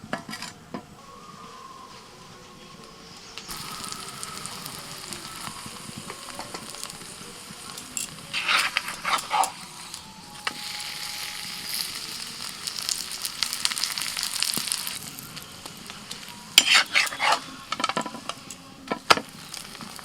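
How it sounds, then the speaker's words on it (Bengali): A thick pea-stuffed paratha fries in a little oil on a tawa over low heat, with crackling sizzle that swells in bursts alongside clinks and scrapes of a spatula as it is turned. "উল্টে পাল্টে এপিট ওপিট একটুখানি হালকা লাল করে ভেজে নিচ্ছি"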